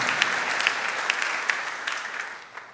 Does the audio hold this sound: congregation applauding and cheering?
yes